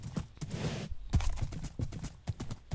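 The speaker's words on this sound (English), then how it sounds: "Let's see if we can get my poor horse back home without running through cactus this time." Horse hooves walking in the Minecraft video game: a series of close, distinct clip-clop steps in an uneven walking rhythm, with a brief soft rustle early on.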